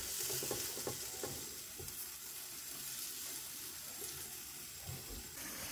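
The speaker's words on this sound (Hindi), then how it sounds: "प्याज को हम हल्का सा फ्राई करेंगे 3 से 4 मिनट" Finely ground onion paste fries in a pan as the base for a Balochi tikka karahi, giving a dense, continuous sizzle at close range with a few soft stirring scrapes.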